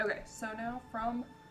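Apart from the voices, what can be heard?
No everyday noise stands out behind the speech.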